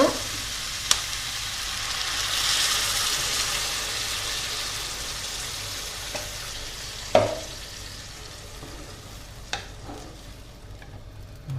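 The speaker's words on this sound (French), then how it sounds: "On va ajouter la purée de tomates et le bouillon." Tomato purée and broth go into a sizzling one-pot rice with beef, giving a loud hiss that gradually fades to a low simmer, broken by a few clicks and knocks of a utensil.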